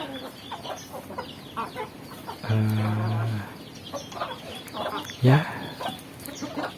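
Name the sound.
chickens clucking in a village coop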